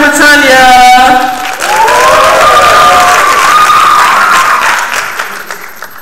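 A loud youth poetry slam crowd in Jacksonville claps and cheers, with high whoops and shouted voices rising over dense applause that slowly tapers off toward the end.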